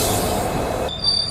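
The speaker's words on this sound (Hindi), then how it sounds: "हमारी ट्रेन जो है नवसरा अभी रुकेगी 2 मिनट" Train wheels squeal as an express train slows into a small station, a loud sustained metallic screech over rumbling rail noise, ending in high ringing tones.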